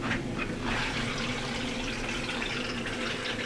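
Water rushes steadily into a reverse osmosis system line during installation, a continuous hissing flow with no pauses, moderately loud and close.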